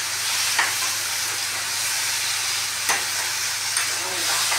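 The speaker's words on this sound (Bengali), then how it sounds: "এই নাড়াচাড়া করবো।" Arum flower pieces being stirred in a frying pan with salt and turmeric, a steady broadband sizzle throughout with a few soft scraping strokes of the spoon, close and continuous.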